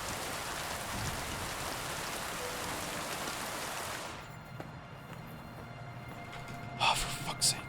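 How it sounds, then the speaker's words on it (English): Steady, dense rain hissing on the ground in the video game Kingdom Come: Deliverance 2, fairly loud for about four seconds before cutting away to quieter ambience with a couple of brief sharp sounds at the end. "I love rain."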